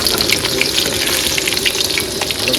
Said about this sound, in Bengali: বন্ধুরা তেল গরম হয়ে গেছে এখন মাছ ভেজে নেবো